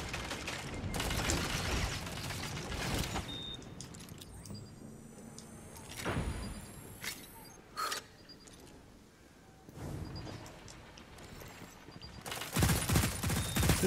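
Bursts of rapid hand cannon gunfire and explosive blasts from Destiny 2, loud and repeated, with mechanical clicks and reload sounds between volleys.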